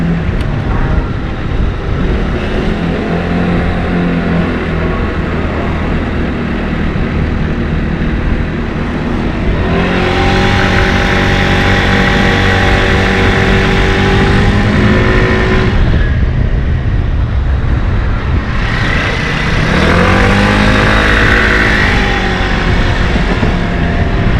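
An Arora Cappucino 50cc scooter engine whines loudly and steadily as it climbs a hill, rising in pitch at two surges on the steeper stretch, close to the microphone with wind rush.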